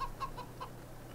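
Chickens cluck in short, evenly spaced calls in the video game Farming Simulator 22, a quick run of four or five soft clucks over a low steady background hum, with no talk.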